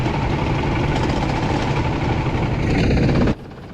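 A racing kart engine on a track drones steadily at high revs with a buzzing vibration, then drops off abruptly near the end as the throttle closes.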